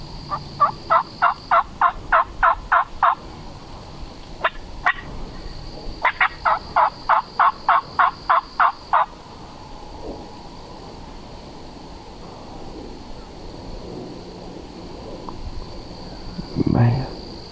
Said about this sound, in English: There's 2 gobblers.